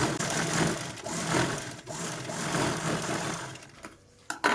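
A sewing machine runs a steady whirring, rattling stitch while a zipper is sewn onto a bag, close up, then slows and stops near the end with a brief clunk.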